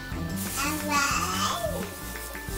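A baby babbles at home, heard as a run of soft, rising and falling infant vocal sounds while someone kneads dough in the kitchen.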